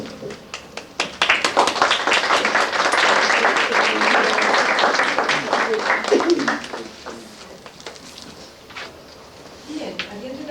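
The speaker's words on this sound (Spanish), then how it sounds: "los aplausos eran necesarios" Audience applause at a Palestinian history seminar at a university in Santiago, Chile: dense, sustained clapping from a crowded room, loud for about six seconds before thinning out and fading, with a few scattered claps near the end.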